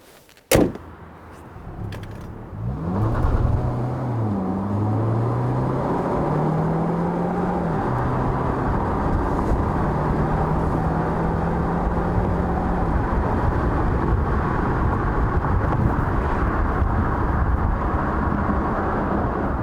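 A 2019 Kia Cadenza Hybrid with electric motor and 6-speed transmission accelerates hard to 60 mph, engine note rising steadily in pitch and dipping briefly at gear changes, a sustained loud drone heard from inside the cabin after a sharp thump at the start.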